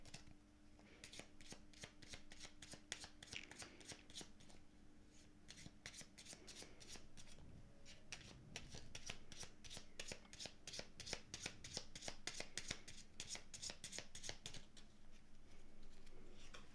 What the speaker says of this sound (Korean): 바로 카드 셔플 해보고 카드 뽑아보도록 할게요.